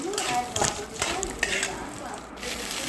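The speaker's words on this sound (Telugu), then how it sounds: "ఎండు మిరపకాయలు ఒక పది ధనియాలు మినపప్పు శనగపప్పు వేసి వేయించుకున్నాను" Dry red chillies, coriander seeds, urad dal and chana dal fry in a kadai with a continuous soft sizzle and crackle, stirred now and then with light scraping, under a voice speaking.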